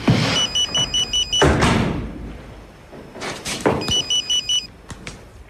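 A mobile phone rings indoors in two electronic bursts of rapid warbling tones, separated by a pause, with door and household clatter around them.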